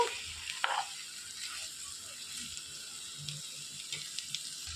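Chicken liver frying in oil in a pan, a soft steady crackling sizzle with small pops and a stir or scrape near the start, fairly quiet and close.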